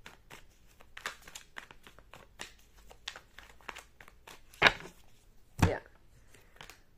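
Tarot cards are shuffled by hand in a quiet room, giving a run of light papery riffles and taps, close and fairly soft, with two sharper snaps of the deck standing out near the end.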